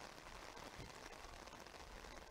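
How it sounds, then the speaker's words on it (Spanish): Steady rain pours down at a baseball game, a dense, even hiss of drops on the surface filling the whole stretch with no voices. "Demora por lluvia."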